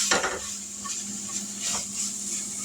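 Ingredients are dumped into a pan holding hamburger meat, a soft thud and rustle followed by stirring and a faint sizzle, close and fairly loud, with no talking.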